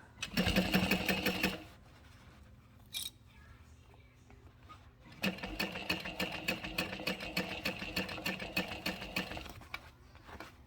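A sewing machine stitching a seam on a Luna garment runs in a loud, fast, rhythmic burst for about a second and a half, pauses, then stitches again steadily for the last five seconds.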